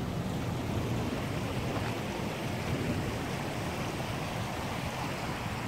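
River water flows in a steady, broadband rush outdoors along a riverbank, constant and fairly loud with no talk over it.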